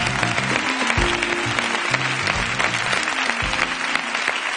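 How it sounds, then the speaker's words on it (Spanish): A television studio audience applauds, a loud, sustained round of clapping with steady music playing beneath it. "le mandamos un aplauso lleno de cariño y de ánimo a José Mari"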